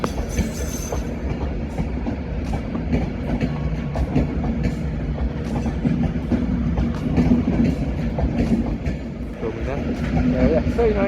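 A Class 390 electric train pulls out of Manchester Piccadilly station on a service to London Euston. It makes a loud, continuous rumble with light wheel clatter and faint squeals close by.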